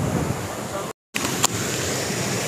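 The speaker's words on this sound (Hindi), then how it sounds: "ये तुसें नज़र आ रहे हो पानी कितना छल मार रहा है" Fast-flowing water rushes loudly and steadily through the channel of a water-powered grain mill, a broad continuous roar broken by one brief cut.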